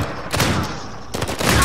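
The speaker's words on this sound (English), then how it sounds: "Damn it, who is shooting me?" Rapid bursts of automatic gunfire in Uncharted 4 multiplayer, two loud volleys with a brief lull between them, sharp and close over a dense battle din.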